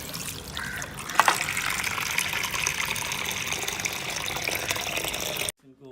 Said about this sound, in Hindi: उनके लिए हम फ्रेश वाटर फिल करेंगे पहले बाउल में